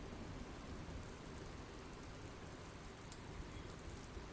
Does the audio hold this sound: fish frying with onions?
no